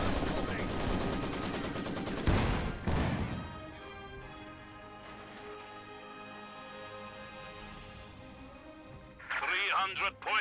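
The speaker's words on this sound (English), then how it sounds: "MG34 and Maxim fighting" MG34 and Maxim machine guns trade fire in Company of Heroes 2, with a sharp burst early on and another near the end over a sustained bed of game sound and voices.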